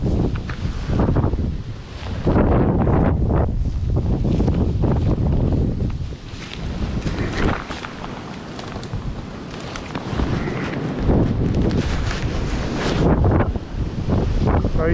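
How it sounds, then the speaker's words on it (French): Strong wind buffets the microphone at a trout fishing spot, a loud continuous roar with gusty surges and rustling throughout, and no talk over it. "le vent est vraiment gênant."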